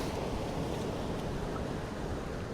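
Wind gusts across a UK beach during a sea fishing match, a steady broadband roar and buffeting against the microphone that stays loud throughout, with no voices.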